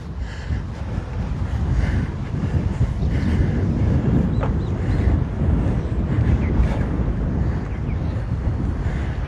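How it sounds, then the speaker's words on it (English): Strong wind buffeting a microphone at a Hawaiian beach at Sharks Cove, a loud continuous roaring rumble with gusty swells, surf faintly beneath. "The wind is blowing like crazy right now."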